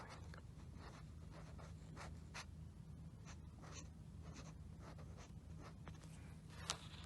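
A pen scratches across paper in short, quiet strokes over a low steady hum, drawn close up in a soft ASMR-style setting with no talk.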